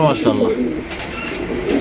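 Pigeon cooing at a pigeon market, low rolling coos close by, with someone briefly speaking over them.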